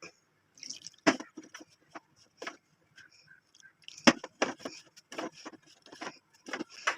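Water sprinkled by hand into seedai rice flour dough while it is kneaded: faint, scattered drips and soft squishing taps in an irregular pattern, close up and quiet.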